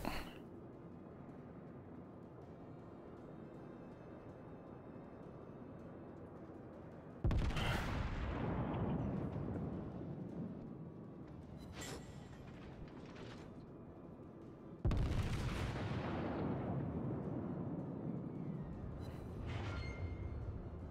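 Gunfire in the video game Point Blank: two heavy, booming shots several seconds apart, each with a long rumbling decay over a quiet background hum.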